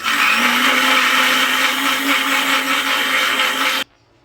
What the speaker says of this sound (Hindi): 3 से 4 अदद जो है वो टमाटर लिए हैं और इसको हम जो है इस तरह से ग्राइंड कर लेंगे।